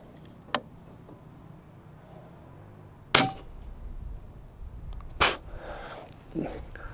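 Several sharp, muffled pops from an air rifle fitted with a small Airmaks silencer, spaced a couple of seconds apart, the loudest in the middle, over a quiet background.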